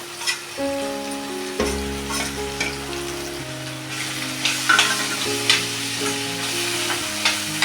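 Paneer frying with tomato and onion in a pan, a steady crackling sizzle broken by scraping stirs, with soft music underneath and no talking.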